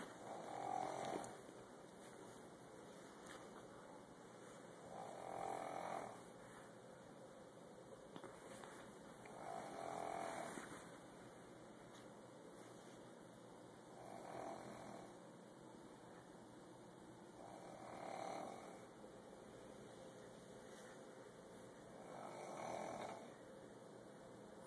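Slow, rhythmic snoring repeats about every four to five seconds, roughly six rasping breaths in all. It is faint and recorded in a quiet room.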